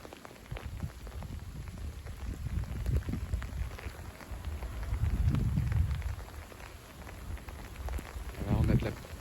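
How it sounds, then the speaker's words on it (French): A March shower of rain and hail falls outdoors, a steady dense patter that swells louder midway and near the end, with occasional heavier drops. "Là, on a de la bonne pluie."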